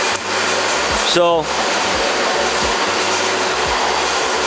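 A shop vacuum bought at Home Depot runs steadily during floor grinding before an epoxy coating, a constant loud whooshing drone with a brief rising tonal sweep early on and a voice over it.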